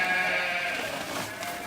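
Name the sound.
sheep bleating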